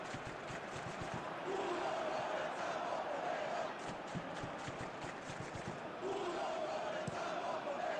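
Football stadium crowd at a UEFA Europa Conference League match between Ludogorets and Servette, a steady dense roar of cheering and shouting that swells at the start and again near the end, sustained throughout.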